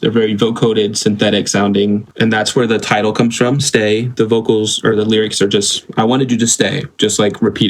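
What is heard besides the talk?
No distinct noise like a dog, phone or traffic.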